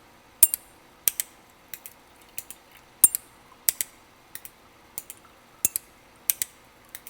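A solenoid tapping a water-filled glass, giving sharp, damped clinks in a regular pattern, about two quick strikes per second with short silences between, close and alone.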